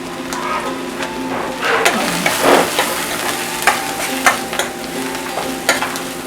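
Masala spices with green chili, turmeric and coriander powder being stirred as they fry in a pan for a vegetable puff filling: a steady close sizzle broken by scraping spoon strokes and small clatters.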